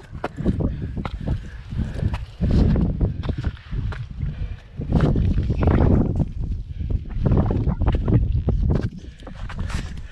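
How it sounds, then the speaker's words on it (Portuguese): Strong wind on a mountain buffets the microphone in heavy, gusting low roars that rise and fall continuously, loud and close, with no clear voices. "Vocês não imaginam o vento que tá. Tá uma grandeza o vento."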